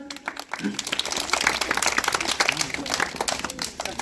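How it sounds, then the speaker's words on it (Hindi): Villagers clapping for a guest at a rural gram sabha gathering after a play about constitutional values, a short burst of scattered applause mixed with voices talking over it. "सर के लिए ताली जाए एक बार"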